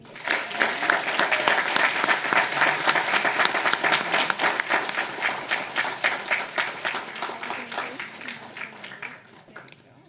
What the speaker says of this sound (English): why don't we give all their ELA award winners a full round of applause right now